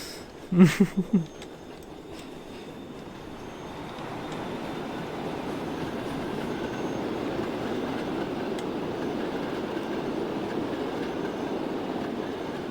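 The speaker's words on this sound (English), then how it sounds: "that train's almost at London and it's like 200 people on board" A simulated passenger train rolls along steadily in Transport Fever 2, a low continuous rumble and rail noise that builds slightly, preceded by a few brief clicks at the start.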